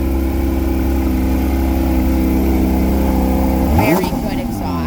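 A 2024 Porsche 911 GT3 RS with sport exhaust idles with a steady, dense, close burble, then near the end gives a short rev that rises sharply and falls away.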